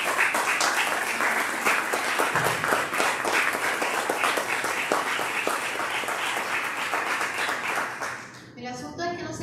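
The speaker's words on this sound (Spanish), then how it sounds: "Un aplauso a todos los compañeros" Sustained applause from the staff gathered at a 70th anniversary celebration of a general archive, dense steady clapping filling the room for about eight seconds before fading out as it ends.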